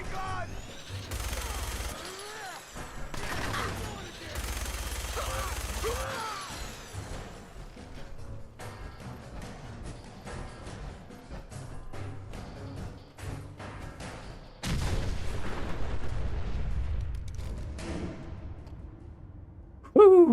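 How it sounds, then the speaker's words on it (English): Minigun fire in Fallout 4, coming in sustained rattling bursts mixed with crashes and mechanical clatter, loud at times and dropping back between volleys, with a player's voice breaking in over the game sounds. "Fucking mini gun!"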